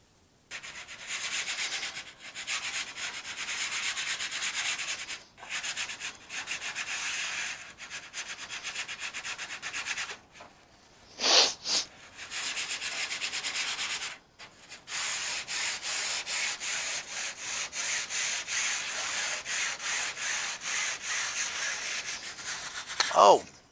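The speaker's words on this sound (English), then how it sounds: "What we're doing is we're lightly sanding our silk. I'm using P500 sandpaper." Silk fabric being lightly sanded by hand with P500 wet-or-dry sandpaper in a workshop, a steady soft rasping rub in long continuous strokes with a few brief pauses, close and alone.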